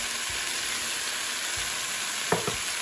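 Steady sizzling of peas, carrots, potatoes and mint leaves frying in oil for potato pulao, a continuous close hiss with a couple of faint stirring knocks near the end.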